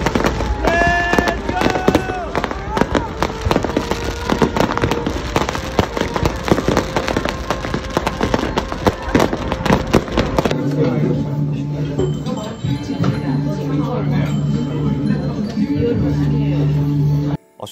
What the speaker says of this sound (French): le feu d'artifice qu'on a vu à Split, il était accompagné de je ne sais combien de pétards et de feux d'artifice